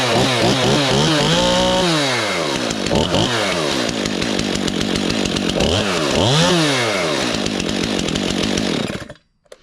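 A 2021 Stihl MS-291 Farm Boss chainsaw, cold-started on one pull, roars loud and close, its engine revving up and down repeatedly before cutting off abruptly at the end.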